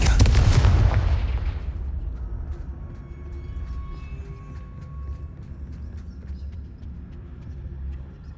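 A Confringo spell explodes in a Harry Potter video game, a single loud booming blast at the start that decays into a long, low rumbling tail with faint game ambience beneath.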